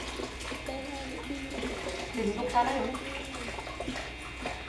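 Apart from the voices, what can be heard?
water running while washing a cooking pot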